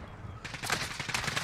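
Enemy gunfire in a first-person shooter video game: a quiet lead-in, then a rapid burst of automatic shots that continues to the end, fairly close and loud.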